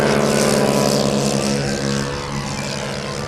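A twin-engine model airplane with 400 motors flies past at an air show, a steady droning buzz with layered engine tones that fades slightly as it moves away.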